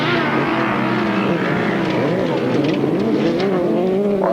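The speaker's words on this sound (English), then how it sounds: "exciting bike in these 1000cc sidecars" Loud, continuous engine roar from 1000cc grasstrack sidecar motorcycles racing at a 1993 Sherfield English meeting, with pitch rising and falling as the outfits power around the track.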